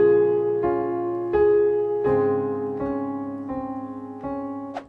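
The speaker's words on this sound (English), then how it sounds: "This is what it sounds like with the left hand." Piano left-hand part of a chordal riff from a worship song, played with a rocking wrist motion: about seven struck chords ringing out one after another, soft and close, with no voices.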